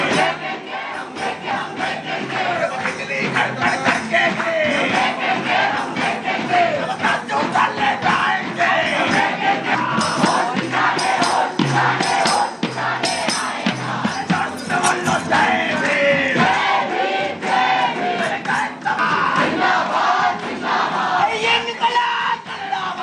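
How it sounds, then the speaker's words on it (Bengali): Student protesters from the SFI chant and shout together outside Aurobindo Bhavan at Jadavpur University, a loud, dense crowd roar that carries steadily throughout with rhythmic bursts of yelling. "অরবিন্দ ভবনের বাইরে এসএফআই এর বিক্ষোভ।"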